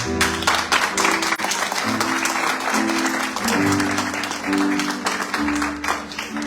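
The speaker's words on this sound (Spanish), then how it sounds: "Vamos a darle un aplauso al Señor." A church congregation breaks into sustained applause, dense clapping over sustained musical tones from instruments, with voices faintly present beneath.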